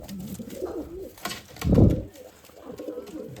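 Pigeons in a loft cage coo softly nearby, with a louder low throaty coo in the middle and faint background rustling.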